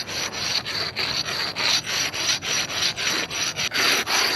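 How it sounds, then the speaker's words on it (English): Steady back-and-forth scraping of a rub brick on a concrete curb, loud and close, with a regular rhythm of strokes. "You're going to want to rub brick the curb."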